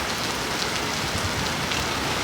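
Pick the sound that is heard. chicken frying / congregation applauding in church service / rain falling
rain falling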